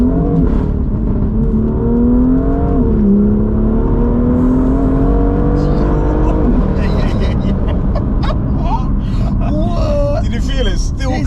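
Tuned BMW M2 at Stage 2+ around 442 bhp accelerating hard, a loud in-cabin engine drone climbing in pitch through gears with a shift dip, while occupants talk and exclaim over it.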